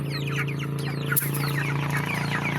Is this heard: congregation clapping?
no